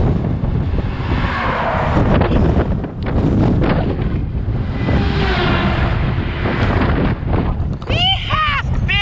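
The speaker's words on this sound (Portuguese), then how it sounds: "Pense num vento doido." Strong gusting wind roars across a microphone beside a road with no shoulder, a loud, steady broadband rush that swells and dips throughout, with a brief sharp chirping sound near the end.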